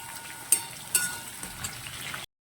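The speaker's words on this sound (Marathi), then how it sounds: "आता आपल्याला परतून घ्यायचं आहे हे साहित्य मस्त असं कमी गॅसवर" Tomato and other ingredients sautéing over a low gas flame for bhagar khichdi give off a soft, quiet sizzle, with two sharp utensil clinks early on and lighter stirring taps after.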